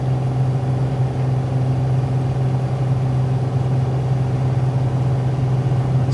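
PA-28R Turbo Arrow piston engine at full power on the takeoff roll in MSFS 2020, a steady loud drone with a strong low hum and a constant tone, heard alone.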